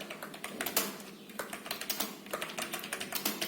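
Fingers type on a computer keyboard, a quick, uneven run of close, crisp key clicks lasting a few seconds, alone in a quiet room with no talk.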